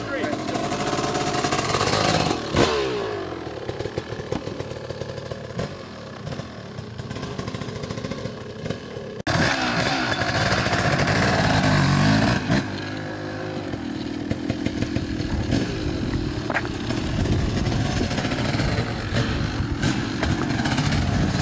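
A 1997 KTM 360SX two-stroke dirt bike is ridden in a parking lot, its engine buzzing loud and continuous with rising and falling revs, and a voice talks over it.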